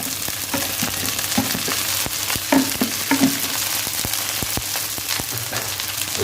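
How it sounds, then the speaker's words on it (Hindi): Chopped okra (bhindi) fries with onions in a pan, a close, continuous crackling sizzle dotted with sharp pops and the occasional clack of stirring. "इसको अच्छे से फ्राई करेंगे।"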